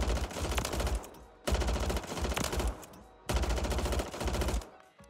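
A Striker 9 submachine gun in Warzone 3 firing three sustained automatic bursts, loud and close, with short gaps where the rattle cuts off between bursts.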